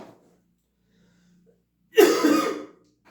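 A single harsh cough from a teacher who is feeling unwell, a short broadband burst about half a second long, close and fairly loud after near silence, with a faint hum beforehand.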